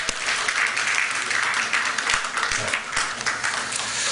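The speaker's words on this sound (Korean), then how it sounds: "여러분들 박수 쳐주시고 또 격려해 주시기 바랍니다" Audience applause after a call to clap for people who attended all week, steady and fairly close, filling the whole stretch with dense patter and no talk.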